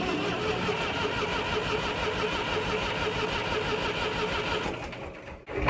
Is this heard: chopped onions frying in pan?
no